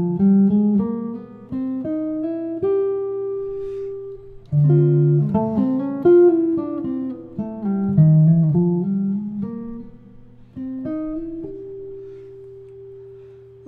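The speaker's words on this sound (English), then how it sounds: "Okay, our next lick sounds like this." A single melodic jazz lick built on D melodic minor, played as a clean sequence of plucked notes in short phrases with brief pauses, clear and close with no talking.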